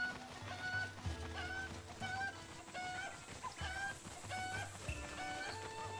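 Cucco chickens cluck repeatedly in The Legend of Zelda: Breath of the Wild, in Kakariko Village, with short chirpy calls recurring about once a second over steady game music.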